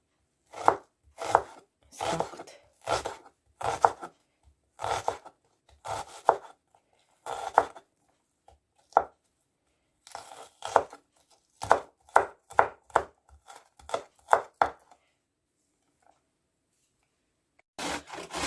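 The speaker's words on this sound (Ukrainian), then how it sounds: "Цибульку я буду різати таким середнім кубиком, не дуже мілко." A knife chops an onion into medium cubes on a board in a Ukrainian village kitchen, making close, crisp strokes in quick rhythmic bursts with brief pauses between runs and no talking.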